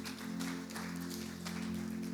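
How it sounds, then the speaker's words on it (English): A church congregation claps for the band, a short burst of scattered applause at moderate distance over a steady low hum from the sound system. "Let's give them a big round of applause."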